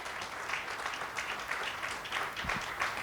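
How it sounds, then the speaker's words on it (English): Audience applause at a fireside chat event, steady continuous clapping from many people in a hall, moderately faint, with no speech over it. "I'm pretty sure we can do a big round of applause for him."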